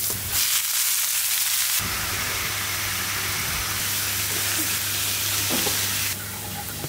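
Red amaranth greens cook on a stove with plenty of chopped onion, green chili and garlic, giving a continuous close hiss and sizzle whose tone shifts slightly partway through.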